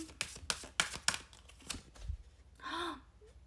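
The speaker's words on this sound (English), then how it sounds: "One more shuffle." A quick series of crisp tarot card riffles and snaps up close, then a pause and a soft breath.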